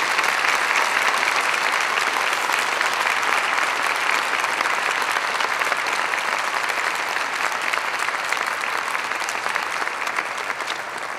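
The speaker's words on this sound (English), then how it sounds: "Could we have a big round of applause for these Eagle Scout candidates?" Sustained, dense audience applause for Eagle Scout candidates at a Troop 66 Court of Honor at the Crystal Cathedral, loud and even throughout with no speech, tapering slightly at the end.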